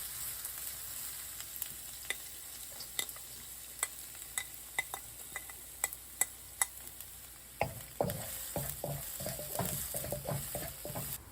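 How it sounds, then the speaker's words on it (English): Ginger, garlic and scallion fry in hot oil in a pan for mapo tofu, a constant soft sizzle broken by sharp clicks of a spatula, growing louder and busier as the aromatics are stirred near the end. "Sprinkle ginger into the pan, followed by garlic, and then scallion."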